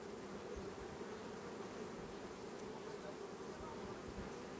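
Honey bees buzz steadily inside an open beehive during a colony inspection, a dense, continuous hum close by with no speech.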